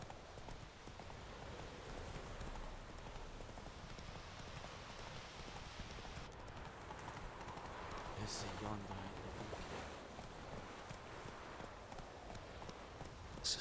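Roach, Geralt's horse in The Witcher 3, gallops at a steady pace with rhythmic clip-clopping hoofbeats over a busy outdoor game ambience, continuous throughout.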